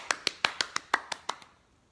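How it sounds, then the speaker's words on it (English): A small group claps together in a circle, eight sharp, evenly spaced claps in quick succession that then stop, leaving a faint tail of room noise. "Circle clap, yes."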